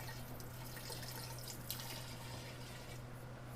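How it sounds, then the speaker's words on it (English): Sweetened liquid is poured into a kombucha fermenting vessel in a steady, continuous trickle and splash close by, with a low steady hum beneath. "I'll just pour it in until I get it down to a certain layer"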